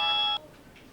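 A phone rings with a short electronic tone lasting under half a second, clear and fairly close, then cuts off into quiet room noise.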